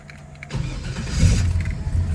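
After a quiet moment, a fuel-injected 1972 Chevrolet Chevelle engine cranks and catches with a key turn, then settles into a loud, rough rumble.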